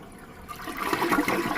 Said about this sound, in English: I'm flushing.